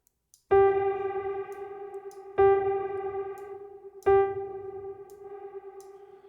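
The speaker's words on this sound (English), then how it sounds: "if I want to make the reverb darker" Three struck tonal notes, each followed by a smooth Valhalla Supermassive reverb tail that decays with the upper brightness rolled off, giving a warm, muted wash.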